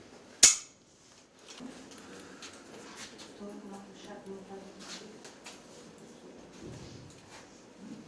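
A single sharp shot cracks out near the start at an interactive shooting range used for training National Guard soldiers, followed by muffled clattering and faint voices in the background.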